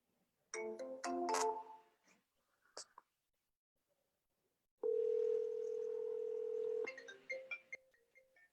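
A phone calling its own number: a short burst of dialing tones and beeps, a pause, then a steady, loud dial tone held for about two seconds, followed by a few scattered electronic blips.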